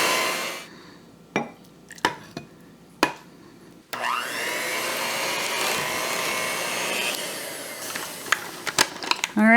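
An electric hand mixer whirs steadily through keto protein cookie batter after several sharp clinks and knocks, a close, continuous buzzing drone that runs for about six seconds, ending in a few rattles.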